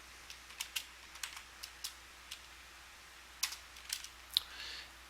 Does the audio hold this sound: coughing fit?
no